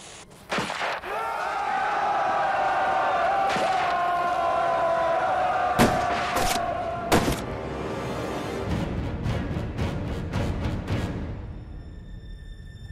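Staged gunfire in a historical battle reenactment cracks out in scattered loud shots over a roaring crowd-like din, with a sustained tonal drone underneath and sharp impacts spaced several seconds apart.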